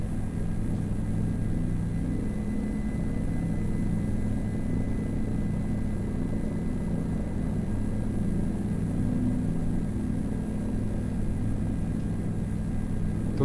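A Gazelle helicopter in Microsoft Flight Simulator drones with a continuous low rotor and turbine rumble that holds steady and fairly loud for the whole stretch, with no talking.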